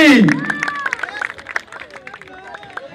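Audience at a village youth club entertainment event claps for prize winners of a musical-chairs game, scattered uneven clapping after a brief loud voice at the start, with faint crowd murmur beneath.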